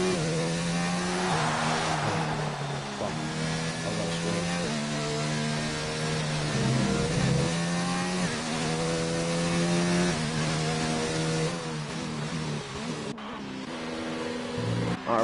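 A race car engine in a racing video game during an esports league race at Catalunya, holding a loud, continuous high-revving drone that rises and falls through gear changes and corners for the whole stretch.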